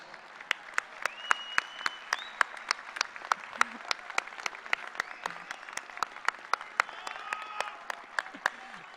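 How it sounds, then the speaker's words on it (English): Steady applause from a large crowd fills the space, with a few sharp individual claps standing out and faint voices underneath. "join me in giving your loved ones a big round of applause"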